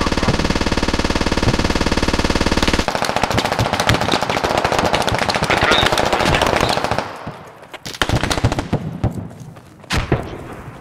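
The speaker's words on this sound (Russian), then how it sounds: "Пулеметчик стрелял." Long, loud bursts of machine gun fire in the military shooter Squad, in rapid continuous volleys that break off, then return in shorter bursts with thuds.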